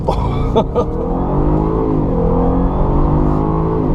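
A 2014 Jaguar XFR with a 510 hp engine and ZF 8-speed automatic drops a gear and accelerates at full throttle, its engine note rising steadily and loudly from a brief burst into a sustained roar.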